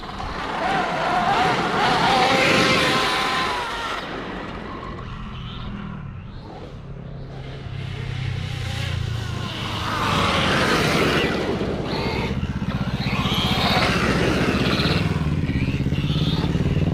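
Electric RC car with a 1200KV motor and 19-tooth pinion, a Dynamite motor in a KR8S, running outdoors: a loud whine that rises and falls as it speeds past and swings away and back, with a lull mid-run.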